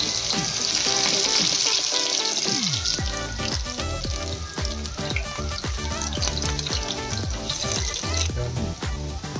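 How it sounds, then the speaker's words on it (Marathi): Cumin seeds dropped into hot oil sizzle loudly and crackle steadily, a close continuous frying hiss with quick popping that carries on without pause. "आता तेल आपलं गरम झालेलं आहे तर तेलामध्ये सगळ्यात पहिले आपण जिरे टाकून घेऊया"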